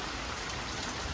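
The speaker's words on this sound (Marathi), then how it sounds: "एकदम जबरदस्त पावसाचं आगमन झालेलं आहे" Heavy monsoon rain pours down steadily in a town, producing a dense, continuous hiss of drops hitting surfaces, fairly faint and with no other sounds standing out.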